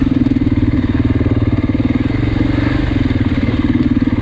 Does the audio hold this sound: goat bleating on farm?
no